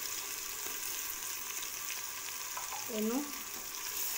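Chopped garlic, ginger and green chillies fry with onions in a pan, giving a soft continuous sizzle at low level; a brief spoken word cuts through near the end over the frying.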